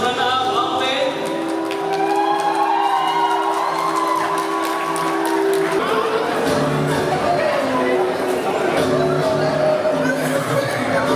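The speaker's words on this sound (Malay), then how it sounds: "lagi sekali tepukan untuk first runner up Alvin" An audience at the Kumang Gawai Betong 2025 pageant cheers, chatters and applauds for the first runner-up, a loud, sustained crowd roar with whoops and laughter mixed in.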